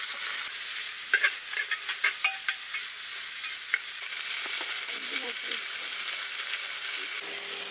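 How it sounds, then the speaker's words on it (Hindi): Cumin seeds, bay leaves and butter sizzle steadily in a hot tempering pan, a close, continuous frying hiss with light stirring clicks. "आधा छोटा चम्मच जीरा और यहाँ पे दो तेज पत्ता, तड़का में डाल देते हैं।"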